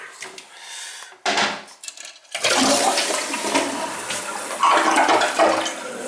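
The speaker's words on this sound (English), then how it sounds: "Let's see how it flushes." A Kohler toilet with a newly installed fill valve flushes with a sudden loud rushing gush of water that keeps churning and draining for several seconds, heard close up after a few soft clicks from the handle.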